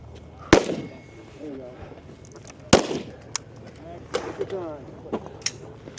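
Pistol shots at a tactical shooting competition stage: two sharp, loud cracks stand out among several fainter pops, with a commentator talking throughout.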